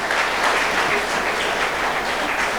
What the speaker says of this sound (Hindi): आप सब तालियों से उसका स्वागत करेंगे